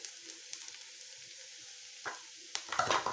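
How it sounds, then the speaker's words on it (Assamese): Onions frying in a pan for egg masala give a soft, steady sizzle close by, with a few louder stirring scrapes and crackles toward the end. "আমাৰ পিঁয়াজখিনি ভজা প্ৰায় হৈ গৈছে।"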